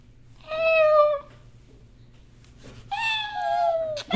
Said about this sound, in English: Show me your cat.